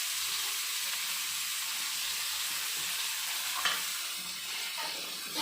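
Lemon rice with coriander is stirred in a hot pan on a gas stove, making a steady hissing sizzle with soft scraping and a couple of light clinks.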